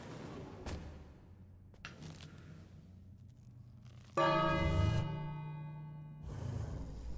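A single bell rings out in the King's Quest video game, loud and resonant with a lingering hum that slowly fades after a few quieter clicks and taps.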